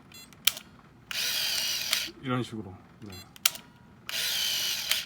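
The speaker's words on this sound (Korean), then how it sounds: "한 두 장 정도만 이렇게 눌러주시면 필름이 로딩이 되는 걸 확실히 알 수가 있어요" A Canon AF35ML Super Sure Shot film camera's motor whirs twice to advance freshly loaded film after the shutter is pressed, each burst a loud, close buzzing run of about a second, with someone talking briefly between them.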